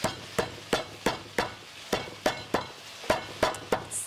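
A lemongrass stick for a Balinese chicken curry being pounded to bruise it, about a dozen evenly spaced sharp knocks in a steady rhythm, close and alone.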